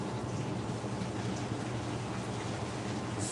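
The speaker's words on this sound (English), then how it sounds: "So there's a washing machine going." A domestic washing machine runs nearby as a steady, even rumbling wash of noise with a soft sloshing texture. It keeps a constant level throughout, with no voices.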